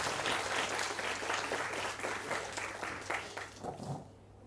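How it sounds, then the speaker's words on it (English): Applause from an audience at a university student induction program greets a guest speaker, a dense steady patter of many hands that fades out near the end over a low electrical hum. "Let's welcome with a round of applause."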